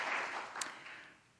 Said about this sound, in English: Yes, let's give them another round of applause.